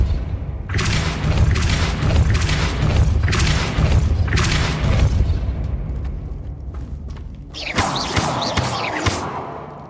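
Repeated heavy booming blasts of the Depulso spell being cast in Hogwarts Legacy, a run of loud thumping impacts and rumbles back to back, with a brighter crackling burst near the end and no talk.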